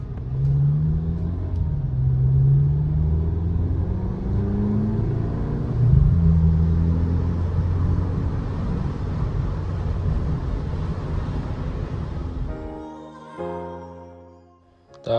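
A 2023 VW Polo GTI with a 6-speed DSG gearbox, its engine rumbling and rising and falling in pitch through several gear changes, loud and close with no talk, easing off and fading near the end.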